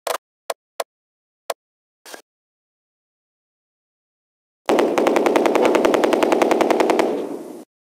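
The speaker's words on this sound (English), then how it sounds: "Under heavy fire." Gunfire in the World War II strategy game Close Combat 2 at Arnhem: a few isolated sharp single shots, then a pause, then a loud sustained machine gun burst of rapid even rounds lasting nearly three seconds.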